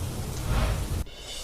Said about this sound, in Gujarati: ભુજમાં ધોધમાર વરસાદ ખાબક્યો